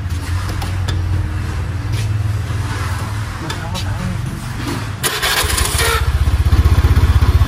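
A Honda Air Blade 110 motorcycle engine with a faulty charging regulator fires up and settles into a loud, steady rumbling idle, with a brief burst of higher-pitched noise as it catches.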